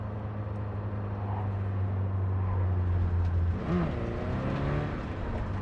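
A car in the video game Cyberpunk 2077 drives and pulls over to park, its engine humming steadily at close range. The tone shifts briefly midway as the car settles, then a quieter hum continues.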